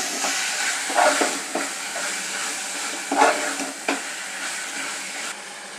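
Biryani masala mixture with garam masala, biryani masala and a little chilli powder being stirred in a pot over a low hiss of frying. A few louder scrapes come at irregular intervals.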